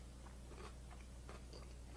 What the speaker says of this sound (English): You can hear the crunching.